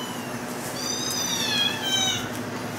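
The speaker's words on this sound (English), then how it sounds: "Oh, those cats are so cute." Cats meow in a few drawn-out, high, wavering cries over a steady low background hum.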